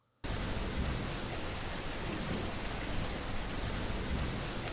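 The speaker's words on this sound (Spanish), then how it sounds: "Las primeras gotas comenzaron a caer. En cuestión de minutos, se convirtió en un aguacero" A heavy downpour with thunder starts abruptly after a brief silence and holds as a dense, loud wash of rain hitting surfaces, with faint thunder rumbles mixed underneath and no voices.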